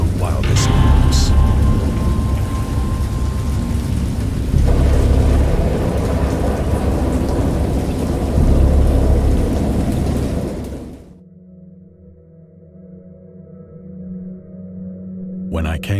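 A thunderstorm at sea roars with heavy rain and rumbling thunder for about eleven seconds, loud and close, then drops abruptly to a quieter, low murmur with faint tones.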